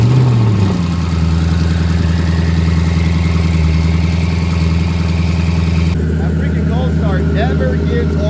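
A twin-turbo Ford Mustang engine runs with a steady, loud mechanical drone and rises in pitch as the car drives out, with a shift in tone near the end.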